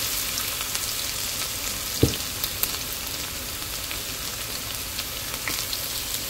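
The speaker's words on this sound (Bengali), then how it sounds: "রসুন কুচি এখন একটু ভেজে নিব।" Chopped garlic and dried chillies frying in hot oil, giving a steady, dense close sizzle throughout, with one small knock partway through.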